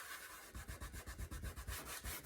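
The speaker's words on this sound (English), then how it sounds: "I'm gonna grab my scrubby here and just kind of scrub it" Dried glue being scrubbed off with a handheld scrubby pad during cleanup, a steady run of close, rhythmic rubbing strokes about five times a second with no talking.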